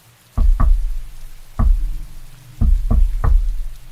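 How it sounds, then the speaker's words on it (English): Someone raps a secret knock pattern on a door: two knocks, a pause, one knock, a pause, then three final knocks, each a dull, close, wooden thud with a little room echo. "2 knocks, pause, 1 knock, pause, and a final 3 knocks."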